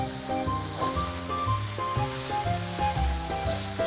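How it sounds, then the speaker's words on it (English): Peas cooking in a pan on a flame give a steady, even sizzle with soft bubbling, close and continuous with no talk. "Just gotta let the peas cook for about 3 minutes and wait on the pasta"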